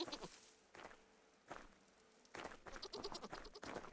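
Goats in the video game Vintage Story bleat in several short, repeated calls with brief pauses between them, at moderate volume and fairly close, with no talking over them.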